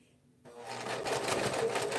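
A sewing machine top stitching a tote bag starts up after a moment of near silence, then runs in a fast, steady mechanical whir with rapid needle ticks, close and clear.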